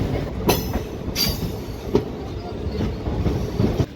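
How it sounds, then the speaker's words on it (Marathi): Koyna Express pulling into Kirloskarwadi station, heard from on board: a steady rolling rumble broken by several sharp clanks and brief metallic squeals from the wheels, with no voices. "10:54 किर्लोस्करवाडी इथं आपली ट्रेन पोहोचली आहे"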